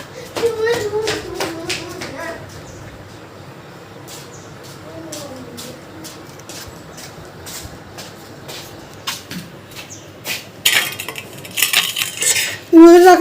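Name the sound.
washing dishes, pots and cutlery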